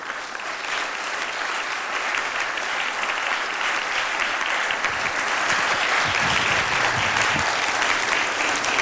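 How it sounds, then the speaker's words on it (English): Sustained, dense applause from an audience at a conference, a steady wash of many hands clapping for nearly nine seconds with no talking. "Please give him applause."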